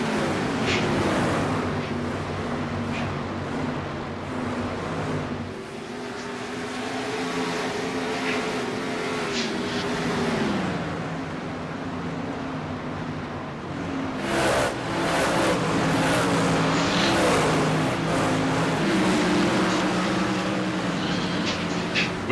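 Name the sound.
sprint cars racing at Indianapolis Raceway Park, video game iRacing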